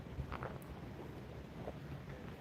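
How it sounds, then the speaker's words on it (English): Wind blows outdoors at a trout and carp fishing spot, a faint low rumbling buffet with soft gusts, steady in the background throughout. "Wind is getting annoying."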